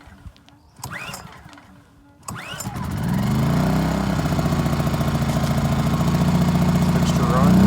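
A Predator 2000 generator fresh out of the box is pull-started: a couple of recoil cord yanks, then the engine catches and settles into a steady, loud running drone that fills the rest of the clip.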